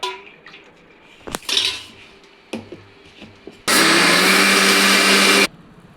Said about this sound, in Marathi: हे भिजलेले तांदूळ आणि डाळ मिक्सरमध्ये वाटून घेऊ